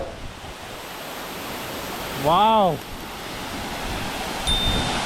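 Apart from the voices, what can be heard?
waterfall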